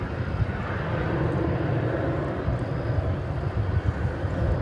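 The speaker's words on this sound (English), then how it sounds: "Volaris Flight 893, an Airbus A321 is off to Guadalajara in Mexico." A Volaris Airbus A321 departs DFW Airport, its jet engines giving a broad, steady rumble that stays fairly loud and even through the few seconds heard, with no voices over it.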